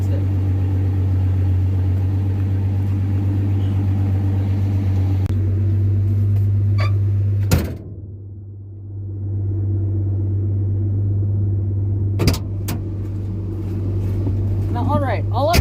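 A Ford Mustang is driven after a carburetor cleaning, giving a steady, deep engine drone heard from inside. The drone briefly drops away midway and then returns, with a few short knocks and clicks over it.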